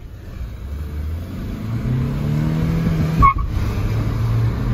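A Kia Sonet turbo and a Seltos diesel accelerate hard side by side in a drag race, steady engine roar with rising revs and a brief tire squeal or thump midway, loud and close throughout.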